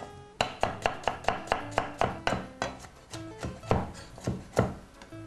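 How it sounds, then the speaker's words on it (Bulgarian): A small onion is chopped finely with a knife on a board: about fifteen quick, close, sharp strikes in a steady rhythm that loosens toward the end, with no talking. "Аз ще сложа дребна главичка лук, която нарязвам на ситно."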